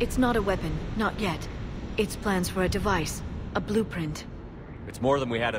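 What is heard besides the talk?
No distinct noise like a dog, phone or traffic.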